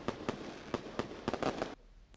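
Celebratory fireworks burst over a town's central square during an evening festive event, with a string of sharp, irregular bangs and crackles that stops abruptly, leaving quieter background.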